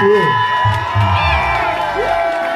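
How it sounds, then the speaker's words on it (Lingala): A concert crowd at a live show in Paris cheers and whoops loudly and continuously, with shouts rising through the dense roar. "On fait applaudir"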